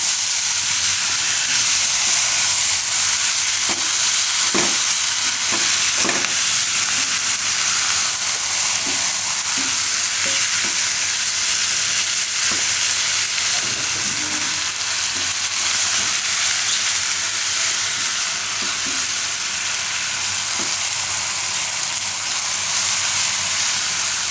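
Fenugreek leaves sizzle steadily as they fry in a pan, with a dense continuous hiss broken by scattered soft clicks and scrapes of a spoon stirring, close and fairly loud, no voices.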